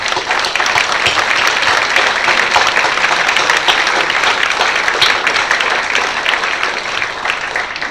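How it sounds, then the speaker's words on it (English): A crowd at a professional plenary session applauds loudly and steadily, a dense, continuous wash of many hands clapping at an even level for the full eight seconds with no voice over it. "So please accept our applause, all of you."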